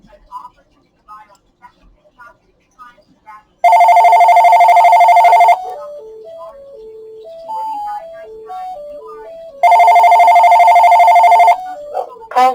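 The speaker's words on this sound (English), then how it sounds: "Alright, here's the phone ringing." A telephone gives two long, loud electronic rings, each about two seconds, with an automated voice announcing the caller between them and soft beeps before the first ring.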